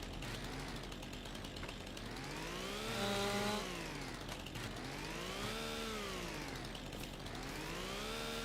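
A chainsaw cuts into a tree in the Farming Simulator 25 video game, its engine droning steadily and loudly with rising and falling pitch sweeps as the revs surge and ease throughout.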